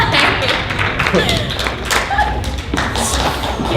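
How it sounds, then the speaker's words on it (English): Scattered, half-hearted audience clapping at an anime convention voice-actor panel, uneven thumps and taps close by for a few seconds with no words spoken. "That is the most mediocre applause I've ever heard in my entire life."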